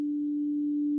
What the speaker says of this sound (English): So you can just like instantly get these sort of drones just